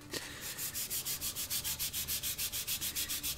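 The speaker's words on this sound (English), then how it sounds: "Sand, a little bit more sanding on the edge" Sandpaper rubs back and forth along the rough edge of a wooden pyrography portrait panel in quick, steady, even strokes, close and fairly loud with no talking.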